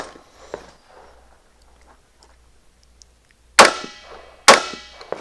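Two loud, sharp rifle shots ring out in quick succession at an outdoor shooting match, each followed by a brief metallic ring from steel targets, after quieter background sounds.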